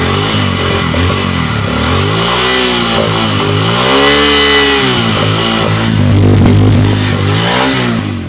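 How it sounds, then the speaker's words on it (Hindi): A Bajaj Pulsar N250 motorcycle (2025 model) revs loudly up close, its exhaust note rising and falling through several throttle blips before settling into a deep rumble. "अब एक बार साउंड सुन लेते हैं एग्जॉस्ट का कि किस तरीके से होने वाला है।"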